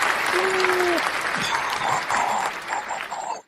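Canned applause effect fired from a streamer's soundboard, a dense steady wash of clapping and crowd noise that runs loud for about three seconds before cutting off abruptly, with a brief tonal whistle near the start.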